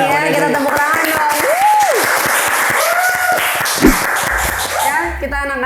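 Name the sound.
applause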